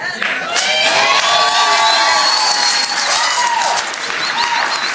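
A large crowd cheers and applauds loudly and steadily for the whole stretch, with whoops and shouts rising over the continuous clapping.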